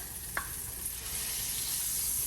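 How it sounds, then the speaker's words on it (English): Butter melting in a pot on a stove over low to medium heat, a soft steady sizzle that grows slightly louder partway through, with one faint light tap near the start. "To this, we're gonna add a teaspoon and a half of butter"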